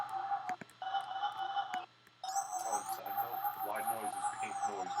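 A synth sample plays with a sine-shaper effect switched on and off, a sustained buzzy tone that cuts out briefly and returns brighter, with gliding high overtones, at moderate volume.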